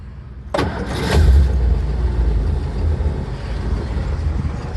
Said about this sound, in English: Fires right up, runs real good.